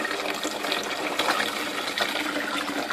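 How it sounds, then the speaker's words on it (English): Granny Smith apple juice pours from a container into a fermenting vessel for cider, a steady close splashing gush that runs without a break for a few seconds. "pour in this lovely Granny Smith juice. There we go, it's going into the fermenting vessel."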